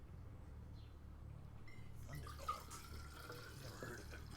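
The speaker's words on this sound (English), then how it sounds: "Just pouring myself some juice" Juice poured into a glass, a soft liquid trickle starting about halfway through, quiet, with low room hum underneath and no speech.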